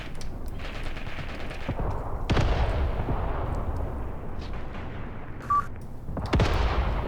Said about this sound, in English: the 88s are opening fire